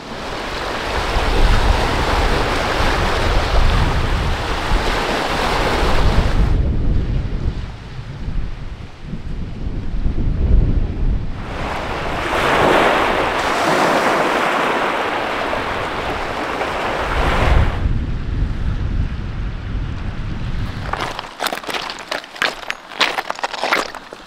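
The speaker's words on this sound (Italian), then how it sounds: "in compenso tira un bel venticello" Wind gusts loudly across Danish seaside cliffs, a steady roar with surf-like swells and microphone buffeting rising and falling over the whole stretch, then breaking into sharp crackling bursts near the end.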